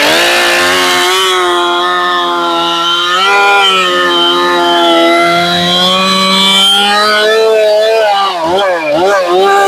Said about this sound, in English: the saw is going to sound a little funny with the noise canceling and the mics